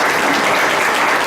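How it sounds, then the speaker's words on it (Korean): An audience at a Korean startup pitch forum applauds after a presenter's Q&A session, a steady, dense roar of clapping that fills the brief moment without any speech. "다시 한번 안기순 대표님께 큰 박수 부탁드리겠습니다."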